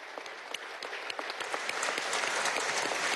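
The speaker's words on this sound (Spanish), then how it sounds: "pido un aplauso por parte de esta Asamblea Nacional" Members of Venezuela's National Assembly applaud municipal police officers during a session; the clapping starts quietly with distinct claps, then swells into fuller, steady applause that fills the chamber.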